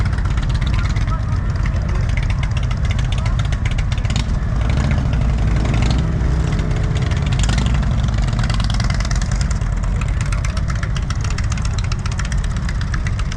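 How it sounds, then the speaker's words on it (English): Several Indian motorcycles rumble and idle as they roll into a parade meeting point, a continuous dense engine drone with voices talking over it throughout. "you got all the bikes making their way in up to this entrance"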